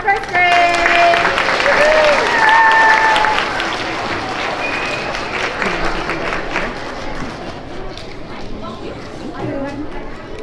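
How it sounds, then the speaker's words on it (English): Applause at a PreK through third grade school assembly for a first grade class: a crowd of students and adults clapping steadily and loudly, fading slightly toward the end, with children's chatter and shouts mixed in. "a round of applause for first grade"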